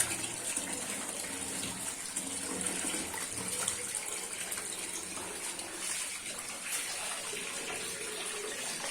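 Tap water runs steadily into a kitchen sink while chicken is rinsed by hand, a continuous close splashing rush with small shifts as the meat is moved under the stream.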